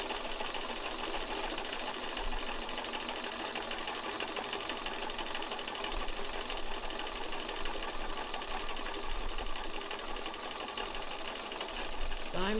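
An embroidery sewing machine restitches flower petals in a steady, continuous run of rapid needle chatter, close and moderately loud, with no pauses across the stretch.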